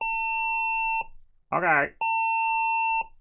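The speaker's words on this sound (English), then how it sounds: "Why do they always have to beep at maximum volume?" An HP 24-df all-in-one computer with a corrupted BIOS that fails to POST beeps at power-on: two long, loud, steady tones separated by a brief pause in which a voice speaks.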